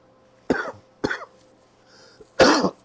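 Three sharp coughs, two close together and a louder one after a short pause, close to the microphone with a quiet background.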